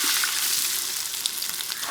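Ground garlic and cumin masala, added alongside curry leaves, fries in a pan for crab rasam, giving a bright, steady sizzle with small crackling pops close up.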